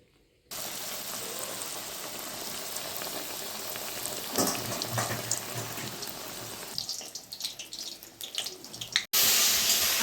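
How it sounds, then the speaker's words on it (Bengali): Beguni, battered eggplant fritters, frying in hot oil for a Saraswati Puja khichuri lunch: a steady, close, dense sizzle and crackle that builds as slices drop in, with no talk over it. "এবারে বেগুনি ভাজবো।"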